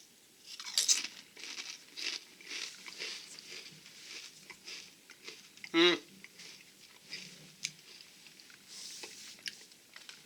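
Crunchy Dutch Crunch jalapeño and cheddar kettle chips being eaten up close, with repeated crisp bites and chewing crunches scattered through a quiet room, one sharper loud crunch standing out midway.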